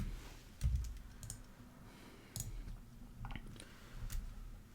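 Computer keyboard typing in short scattered bursts of clicks and taps, fairly quiet and close, with pauses between keystrokes and no talking.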